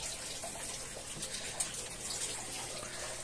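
Water pours and splashes steadily over a rooftop vegetable garden planted in polystyrene boxes, a continuous close hiss of running water with no voices.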